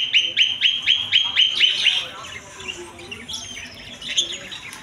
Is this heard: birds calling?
yes